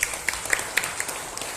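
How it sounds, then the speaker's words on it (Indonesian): Scattered hand claps from an audience at a village officials' inauguration, with sparse, uneven claps over a soft murmuring background, fairly quiet and short. "Tepuk tangan, sudah sukses."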